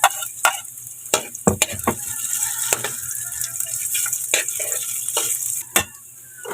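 Garlic and ginger sautéing in hot oil while being stirred, a steady close sizzle broken by sharp scraping clicks of a utensil against the pan.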